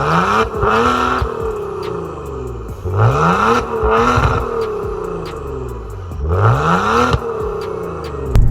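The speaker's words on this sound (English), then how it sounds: "First thing I do is the cold start" A Maserati Ghibli engine cold-starting up close: loud repeated revving surges that climb and fall in pitch, three distinct bursts over a steady rumbling idle.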